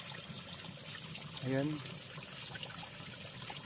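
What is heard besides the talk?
spring water flowing out of the ground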